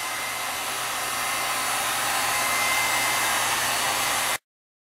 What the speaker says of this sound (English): using the heat gun to kind of shrink up and form these leaves